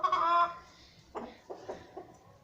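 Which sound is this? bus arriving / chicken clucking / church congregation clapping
chicken clucking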